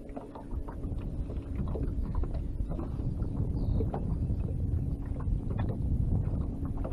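Wind gusting steadily over open water beside a small fishing boat during post-spawn crappie fishing, a continuous low rumbling buffet with occasional knocks, fairly loud and unbroken, no talking.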